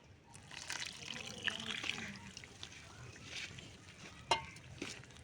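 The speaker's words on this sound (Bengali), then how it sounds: "এবার জলটা দিচ্ছি আমি আস্তে আস্তে" Water is poured slowly into patishapta batter, giving a faint, soft trickle with small splashes and clinks while a person talks quietly nearby.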